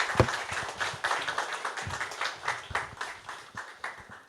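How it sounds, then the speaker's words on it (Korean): A church congregation at a Tuesday prayer meeting applauds, with a sparse, uneven patter of claps that rises and tapers off over a few seconds. "그리고 큰 박수로 맞이하여 주시면 감사하겠습니다."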